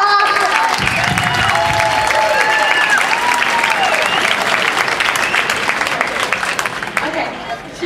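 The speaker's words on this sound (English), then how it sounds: "I think Taylor deserves a round of applause" Wedding guests applaud and cheer during the toasts, dense sustained clapping from a crowd at close range with whistles and voices mixed in, tapering slightly toward the end.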